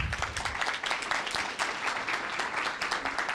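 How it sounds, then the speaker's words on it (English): An audience applauding a speaker at a college lecture, with dense, steady clapping filling the room throughout at an even, moderately loud level. "give Heather a big round of applause"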